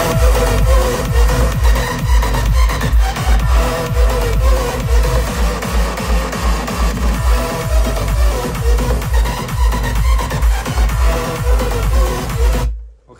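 Loud electronic dance music with a pounding, steady beat and heavy bass plays continuously from a JBL PartyBox 710 portable party speaker with bass boost at level 1, cutting off abruptly at the end.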